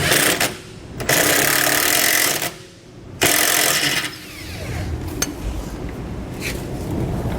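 Ratchet wrench and socket tightening bolts on a MORryde rubber equalizer for a tandem axle trailer, giving loud bursts of metallic clicking separated by short pauses, close up with no talking.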